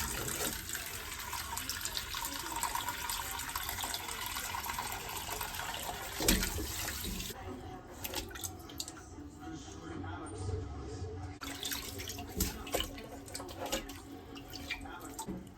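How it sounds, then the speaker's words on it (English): Water sloshes and splashes steadily as an air-filled bike inner tube is dunked and turned in a basin to check for leaks, with a louder splash partway through and continuous trickling and dripping. "put some air in here and put it in some water and check it"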